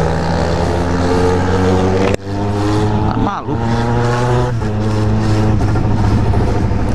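Car engine revving in a steady loud drone with stacked harmonics, dipping abruptly once and bending in pitch as the driver accelerates and brakes at the same time; continuous and close throughout.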